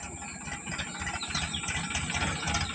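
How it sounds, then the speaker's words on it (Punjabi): A tractor engine running steadily with a low, even rumble and light rattle, fairly continuous and moderately loud with no talk. "ਲੋ ਆ ਗਿਆ ਟਰੈਕਟਰ ਜੀ"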